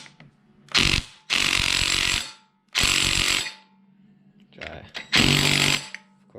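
Impact wrench loosening a clutch bolt on a Kawasaki Z125 or Honda Grom motorcycle, firing in four loud close bursts of hammering rattle, each about a second long, separated by short pauses.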